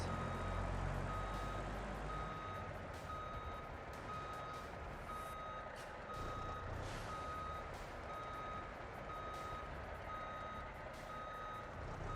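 A truck in the BeamNG Drive driving game is backed out of a garage: a steady reversing alarm beeps in a regular rhythm over a continuous low engine rumble for the whole stretch, with no voices.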